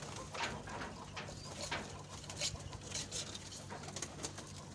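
A flock of pigeons being fed calcium coos softly and continuously, with overlapping low calls and flutters against a busy, noisy background.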